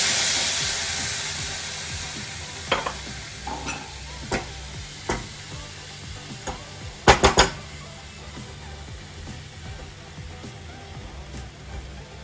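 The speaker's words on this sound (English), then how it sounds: "I am going to just mix all the milk and kova." Milk and mawa (kova) being mixed together on a tawa for besan mawa laddoo with jaggery, a soft continuous hiss under scattered scraping strokes, with a quick cluster of louder clatters near the end.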